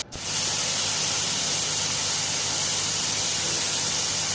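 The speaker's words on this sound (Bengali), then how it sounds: "এই যে দেখুন আমরা ভালো করে ভেজে নিচ্ছি" Chicken frying with spices in a pan gives a loud, steady sizzling hiss close up that runs unbroken from start to finish.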